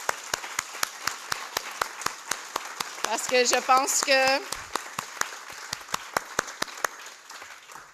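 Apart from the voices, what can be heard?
applause in a conference room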